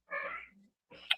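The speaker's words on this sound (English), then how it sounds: "That's a cat behind me." A stray cat outdoors gives one drawn-out, wavering cry, then a short sharp call follows after a pause. It sounds close and fairly loud, with no one talking over it.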